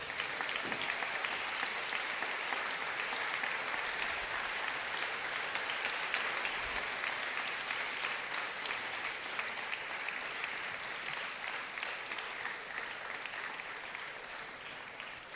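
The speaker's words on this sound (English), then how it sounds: "And keep clapping for him." A lecture-hall audience gives a sustained standing ovation for a lecturer, dense continuous clapping that stays loud and even throughout and tapers only slightly at the end.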